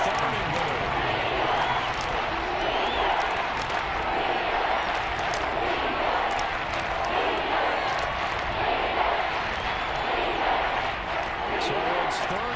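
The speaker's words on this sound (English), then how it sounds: "This is where the KC crowd can make it very tough" A Kansas City stadium crowd in the Madden 23 football game on PS5 holds a steady, loud roar under a commentator's voice throughout.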